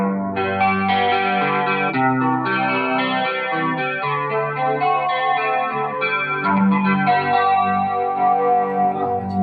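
An Ibanez RG370 electric guitar plays sustained, heavily distorted chords with a shimmering chorus effect, loud and continuous, with no voices.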